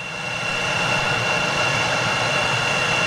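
An aircraft powered by GE CF34 jet engines roars continuously with a steady broadband rush and a thin high whine, loud and close with no pauses.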